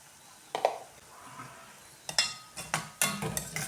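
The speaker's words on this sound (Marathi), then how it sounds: "आता टाकूया थोडीशी हळद. मिक्स करून घेऊ." Turmeric is stirred into roasted red onions in a pan, with spoon scrapes and clinks against the metal as the onions sizzle softly. A few sharp, close knocks and scrapes come in short bursts, with no talking.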